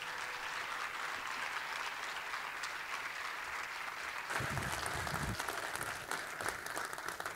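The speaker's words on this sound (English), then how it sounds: "Holly, another round of applause." Steady applause from an audience at a Melbourne tour event, continuous even clapping heard from some distance, swelling slightly louder partway through.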